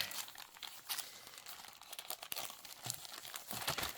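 Wrapping paper crinkling and rustling close up while a subscription box from a fantasy kingdom is unboxed, with steady crackly handling throughout and louder crunchy bursts near the end.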